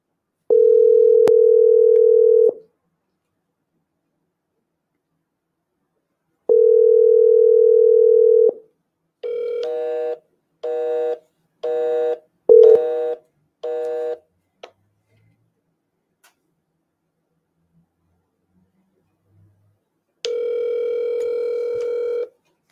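An unanswered WhatsApp video call rings out: long steady ringback tones separated by silent gaps, a quick run of short electronic beeps, then one more tone. Clear and close, with no voices.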